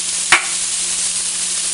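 Bacon and onion sizzle in olive oil in a pan, a steady close crackling hiss with one brief scrape or tap of a utensil near the start.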